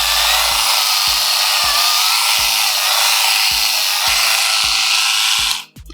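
Electric epilator buzzing and whirring close up while it removes facial hair, a steady high hum broken by regular low thumps roughly every half second.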